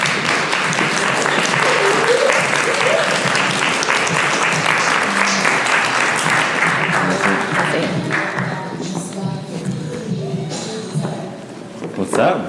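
An audience at a networking event applauds in welcome as a company CEO comes up for a Q&A; loud, sustained clapping with cheers and voices mixed in, thinning out toward the end.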